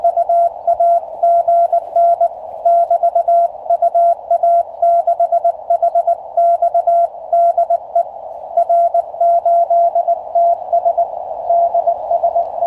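Morse code sidetone from a QCX-mini QRP CW transceiver, sent with a manual key: a loud, steady mid-pitched tone keyed on and off in irregular dots and dashes for over twelve seconds with no talking.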